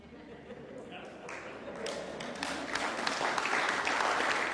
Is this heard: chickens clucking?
no